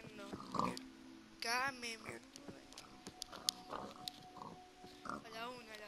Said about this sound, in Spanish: Me vienen todos encima. Son muchos cerdos zombies.